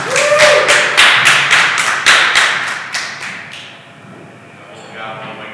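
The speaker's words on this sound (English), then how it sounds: "Big round of applause" An audience applauds the cast and crew at a film Q&A with a run of loud claps that taper off into a quiet room, and a voice briefly cuts in near the end.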